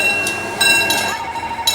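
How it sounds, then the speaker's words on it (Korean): A train on the old Gyeongjeon Line runs past beside a five-day market, close and loud, with steady rumbling wheels on the rails and bright metallic squeals and ringing tones from the cars. "5일장 옆 기찻길로 기차가 지나간다."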